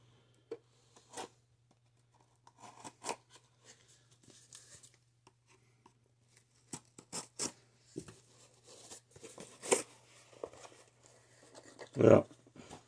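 A cardboard package sealed with packing tape is sliced open, giving faint, scattered cutting, scraping and tearing rustles close by in a quiet room, ending with a louder rip.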